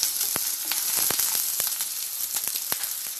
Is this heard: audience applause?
no